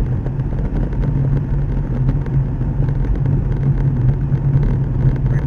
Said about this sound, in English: Reporting live from everyday driving in Lagos.